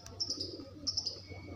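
Pet pigeons kept in a sick pen while being treated for colds, coughs and worms give short bursts of high chirping calls, repeated three times, over a steady low hum.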